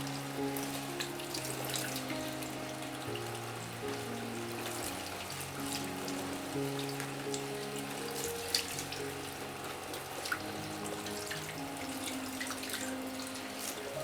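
Tap water runs steadily into a sink while corn husks are washed for Nigerian moi moi, a continuous close splashing flow with occasional small clinks, no voices.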